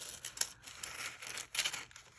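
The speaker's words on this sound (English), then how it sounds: "I take my scissors and I just follow the edge of my book" Scissors cut paper along the edge of a sticker book, giving a quick run of crisp snips and crinkly rustles, close and fairly quiet, with no talking.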